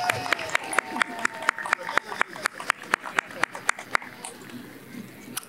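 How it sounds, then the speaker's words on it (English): Applause from an outdoor audience at the Lights Up! Piedmont 2023 event after a performance by a singer, a scattered run of individual claps that thins out toward the end, with people talking underneath. "Let's give her another round of applause."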